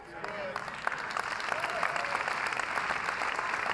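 A church congregation claps steadily throughout, a sustained spread of many hands at moderate volume, with a voice speaking faintly over it.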